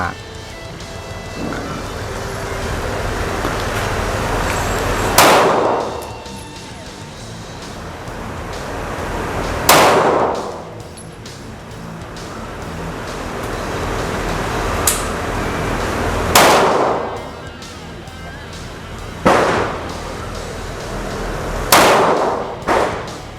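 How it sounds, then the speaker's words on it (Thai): Five loud, sharp 9mm pistol shots from a Sarsilmaz SAR 9 Platinum fired at a target on a range, spaced several seconds apart, each with a brief ringing tail. "เราซ่อมเป้าแล้วก็ยิงชุดนี้เนาะครับผม"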